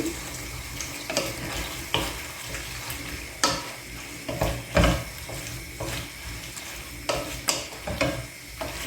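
A spoon stirs bolognese sauce with tomato in a pot, producing steady close scraping and sizzling with repeated louder strokes and clinks against the pan.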